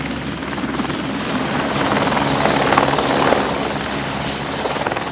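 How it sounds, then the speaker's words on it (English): A police helicopter lifts off from its base, rotor thudding loud and close, the chopping roar swelling in the middle before easing slightly, with no voices over it. "Essex has hung on to its helicopter."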